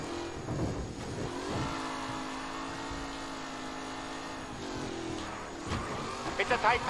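In the video game Mafia: Definitive Edition, a pack of race cars drives in a race, engines whining together at a sustained pitch that swells and dips, with a commentator's voice over the engines.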